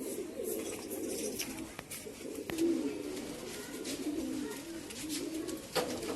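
Domestic pigeons at a loft in Allahabad coo in a steady, overlapping chorus of low, throaty, rolling calls, near and continuous, with no talk.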